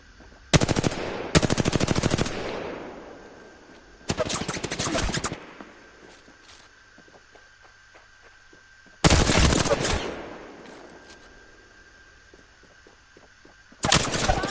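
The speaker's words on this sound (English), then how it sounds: "Bots are shooting at me" Bursts of automatic gunfire from bots shooting in a video game, four loud sustained volleys spaced several seconds apart with quieter gaps and faint clicks between them.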